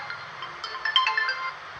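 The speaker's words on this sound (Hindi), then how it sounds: "अब हमारी माता जी भी फोन कर रही है" A mobile phone plays a short, steady melodic ringtone for an incoming call, clear and fairly loud with no voices over it.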